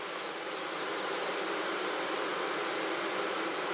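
Honey bees buzzing right above their hive, a dense, steady, even drone of many insects heard close up without a break.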